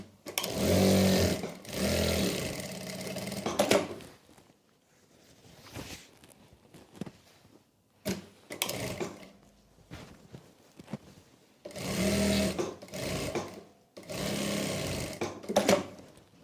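Sewing machine stitching the back panel of a salwar, close rapid needle rattling in several bursts a few seconds long, separated by quiet pauses with faint handling of fabric.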